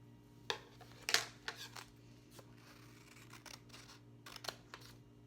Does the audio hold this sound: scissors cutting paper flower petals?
yes